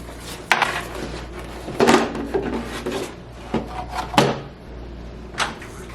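A kitchen drawer lined with mats is handled, giving several woody rubbing and knocking sounds with a rasp of contents shifting, spaced unevenly and fairly close, with no talking.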